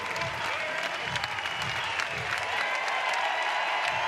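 A record crowd at Goss Stadium at Coleman Field gives a sustained ovation at a college baseball game between Oregon State and Florida State, a steady roar of clapping and cheering that fills the whole stretch.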